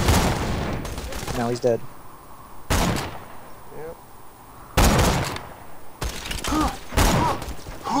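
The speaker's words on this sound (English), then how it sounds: "That guy's got an explosive pistol." An explosive pistol fires in the Borderlands 2 video game as several loud, separate bursts of gunfire spread over a few seconds, with brief talk and game voices between the shots.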